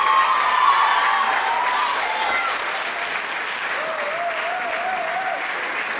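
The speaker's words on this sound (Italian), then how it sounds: "Grande applauso." Audience at a parish musical, "Forza Venite Gente" in Francavilla al Mare, applauding steadily and fairly loudly throughout, with light cheering and a voice faintly over the clapping.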